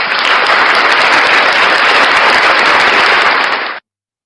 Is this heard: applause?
yes